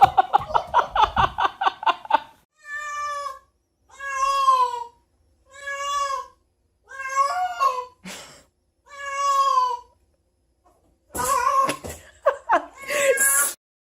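A cat meows repeatedly and loudly up close, starting with a quick string of short cries followed by longer drawn-out yowls separated by pauses, with a burst of mixed vocal sounds near the end.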